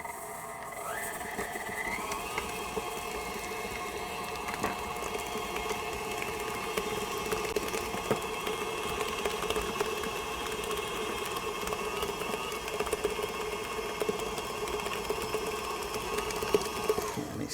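An electric mixer whirs steadily as it creams butter and granulated sugar for a chocolate peanut butter cheesecake cake, its motor pitch rising briefly at the start and then holding a constant, close, unbroken drone with faint beater clatter.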